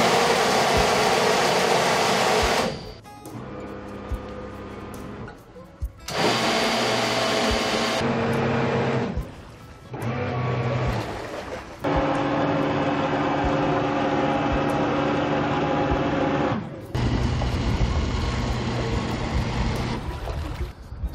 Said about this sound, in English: So as you can see with the on-off thrusters, we're pulsing full power on.